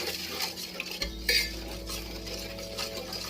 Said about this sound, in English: Turn on the heat on a very low heat, stirring until you get the sauce to thicken.